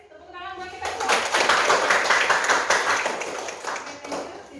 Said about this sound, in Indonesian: Please tepuk tangan buat kita semua